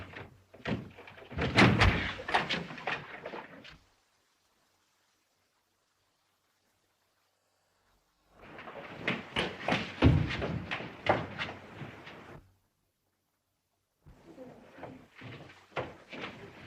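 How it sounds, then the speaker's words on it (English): Men break down a locked door in a 1933 film, heavy thuds and slams in three separate bursts of pounding and splintering impacts with silent gaps between them. "Let's break the door down."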